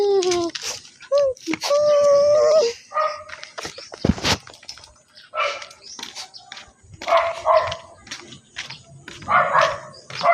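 A puppy yips, barks and whimpers in a string of short, close, high-pitched bursts with brief gaps between them, the cries rising and falling irregularly.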